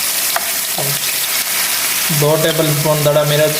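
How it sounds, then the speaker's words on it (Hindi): Spices sizzle steadily in hot oil with tomatoes and green chilies for a vegetable pulao, a loud continuous frying hiss beneath a voice talking throughout. "मसाले हमारे फ्राई हो चुके हैं।"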